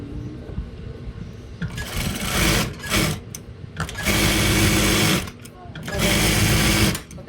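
A Juki high-speed sewing machine stitches in loud bursts of whirring, stopping and restarting several times, with the needle breaking and the machine refusing to sew; brief voices are heard between runs.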